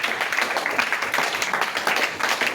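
Church congregation applauding during a French-language service, a steady, dense patter of many hands clapping that fills the room at an even level, with a few voices mixed in.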